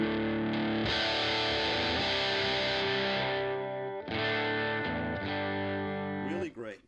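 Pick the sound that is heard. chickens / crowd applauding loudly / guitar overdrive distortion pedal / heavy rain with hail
guitar overdrive distortion pedal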